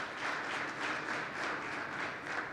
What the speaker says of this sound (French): Des acclamations bien nourries pour saluer les nombreuses réalisations de l'équipe rectorale